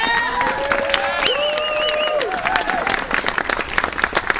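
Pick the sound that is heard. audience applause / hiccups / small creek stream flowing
audience applause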